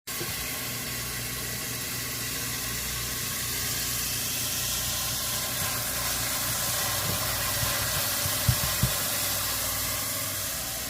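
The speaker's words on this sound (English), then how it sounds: "Putting in my peppers to start saute with the oil as well" Peppers sautéing in hot oil for a Guyanese vegetable stew, giving a steady, even sizzle and hiss that runs unbroken throughout, with a couple of faint clicks near the end.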